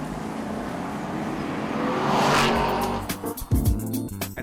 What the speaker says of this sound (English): This V8 sounds absolutely delicious at full clip.